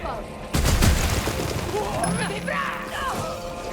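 Gunfire in the video game God of War Ragnarok: a loud sudden blast followed by crashing debris and scattered impacts, with a voice calling out over it.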